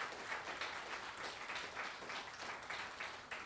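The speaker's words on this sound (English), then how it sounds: "Real quick round of applause for everybody." Sustained, even applause fills a press-conference crowd for a solar array project, a steady wash of many hands clapping at moderate distance with no break and no voices over it.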